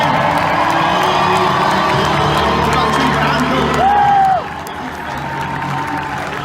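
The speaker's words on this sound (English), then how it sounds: "What do you say we give our first and second generations a nice round of applause?" A rodeo crowd in an arena applauds and cheers loudly, a continuous roar of clapping with whoops and shouting voices, easing slightly toward the end.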